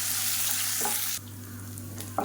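Urad dal, dried red chillies and small garlic cloves fry and crackle in hot oil with stirring, a steady close sizzle that drops in level partway through, with a few scraping stirs.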